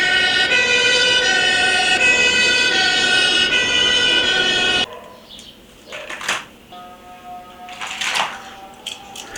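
Toy fire rescue bus siren, a loud electronic wailing siren pattern that cuts off abruptly midway, followed by quieter clicks and short toy tones.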